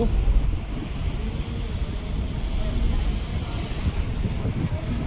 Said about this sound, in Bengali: প্রচুর পরিমাণ বাতাস আসছে